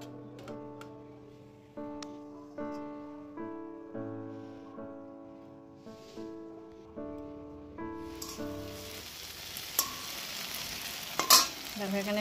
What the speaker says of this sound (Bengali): দেখো এখানে ভেন্ডি ভাজা বসিয়েছি